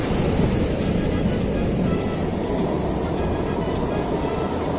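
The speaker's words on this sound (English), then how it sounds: "Wave current is so high, you can see the waves coming from here." High sea waves surge onto the shore at Kashid beach, a loud, continuous roaring wash of surf heard up close and mixed with wind buffeting the microphone.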